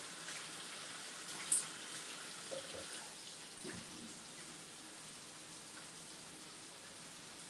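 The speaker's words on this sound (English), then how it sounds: "Give it a little rinse." Broccoli is rinsed under a running kitchen tap: a faint, steady water hiss with a couple of soft knocks early on, no voices.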